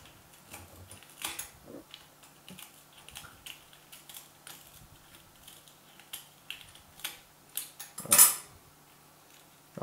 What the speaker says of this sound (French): Et après, on va découper avec le ciseau.